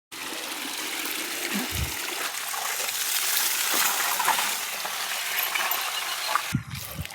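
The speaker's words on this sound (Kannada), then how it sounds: "ಇದಕ್ಕೆ ನೀರು ಬಿಟ್ಟಿದ್ದೀನಿ" Water left running over freshly cleaned things at a home, a steady broadband rush and trickle with faint clinks, continuous and fairly close, cutting off sharply near the end.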